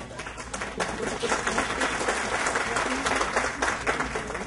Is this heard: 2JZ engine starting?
no